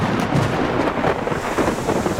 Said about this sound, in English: And that's when the storm hits.